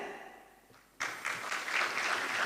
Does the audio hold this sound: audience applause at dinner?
yes